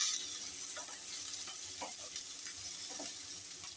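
Spices and ginger paste for a fish head mung dal sizzle in a pan over lowered heat, with a soft, steady frying hiss and a few faint stirring scrapes.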